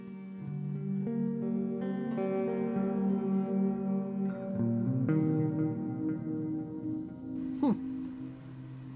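A clean electric guitar tone from the Neural DSP Archetype: Nolly plugin rings out in sustained chords and notes with some hiss, shifting across several voicings before a sharp pick attack near the end.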